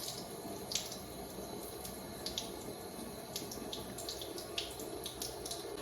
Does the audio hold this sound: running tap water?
yes